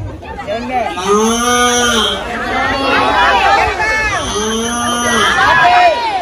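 A man imitates a cow mooing in long, low, wavering calls during a lively sermon in a mosque, with crowd murmur and laughter underneath.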